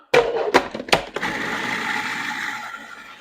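A food processor mixes the spiced meat topping for Armenian lahmajoun flatbread: a few sharp knocks, then a steady close motor whir that runs to the end.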